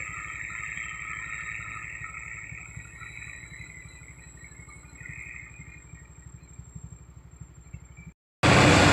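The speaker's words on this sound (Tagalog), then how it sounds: "nag-overheat na yung mixer" A mid-sized overheating cement mixer engine runs steadily with a rapid, rattling pulse and a high whine above it, then cuts off abruptly before a burst of loud noise.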